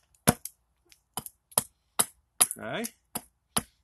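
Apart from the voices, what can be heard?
axe chopping wood spoon handle end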